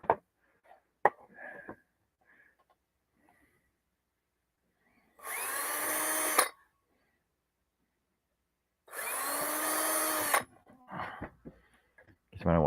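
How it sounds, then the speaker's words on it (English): A handheld power drill, used on a wooden Christmas pyramid project, runs in two close, loud bursts of about a second and a half each, separated by quiet pauses with small knocks. "Got some drilling to do right now."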